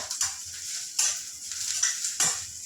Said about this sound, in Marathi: आता थोडंसं खोबरं टाकते खांद्यामध्ये खोबरं भाजून द्यायचं